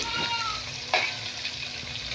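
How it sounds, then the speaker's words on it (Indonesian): Peanuts with garlic fry in oil, giving a soft steady sizzle with a few light scrapes of stirring, close and fairly quiet, with no talk. "Proses menggoreng,"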